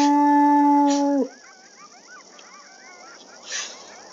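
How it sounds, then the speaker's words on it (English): A single long wolf howl in the WolfQuest game, loud and steady with a pitch that holds and then drops off, followed by quieter wavering yips and whimpers from the pack. "We need to howl to Olive, because he needs to go and strengthen the territory."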